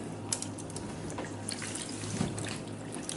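Tap water running in a kitchen sink while cucumbers are rinsed, a steady close splashing trickle with scattered drips and small bursts, no talk.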